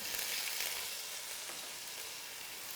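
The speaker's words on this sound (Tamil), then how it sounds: "இதெல்லாம் சேர்த்து நல்லா வதக்கிடுங்க" Chopped onion, garlic and ginger sizzle in hot oil in a pan, a steady, soft hiss of frying for fried rice with faint stirring, quiet and without voices.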